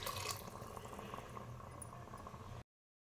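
Water poured into a pot of simmering avarekalu (field bean) sambar, a steady close watery pour and bubbling that runs for about two and a half seconds and then stops abruptly.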